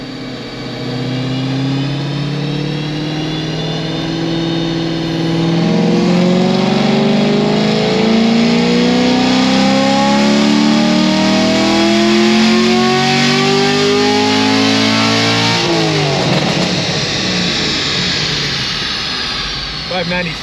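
A naturally aspirated LT1 Camaro engine makes a loud dyno pull, its roar climbing steadily in pitch for about fifteen seconds before dropping away as the throttle closes.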